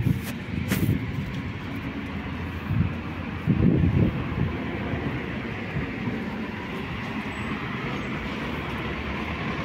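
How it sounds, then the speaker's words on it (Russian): Low, steady rumble of a train rolling past, with a couple of heavier surges early on and constant wind-like noise throughout. "Это не наш поезд."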